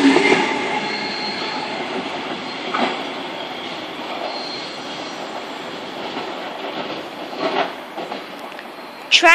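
A Sydney Trains passenger train rolls past close by at Tempe, a steady broad rumble of wheels on rails with faint squeals and clacks, loud throughout.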